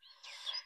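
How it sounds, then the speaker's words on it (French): Birdsong chirps faintly in the background, a brief high twittering phrase heard alone with no talk over it. "il y a un beau chant d'oiseaux là"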